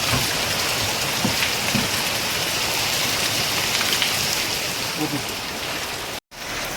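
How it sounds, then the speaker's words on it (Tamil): Heavy rain pours down steadily in a dense, loud hiss of drops hitting surfaces, broken by a momentary dropout near the end. "இன்றைக்கி மழை செம்மழை பெய்யுது."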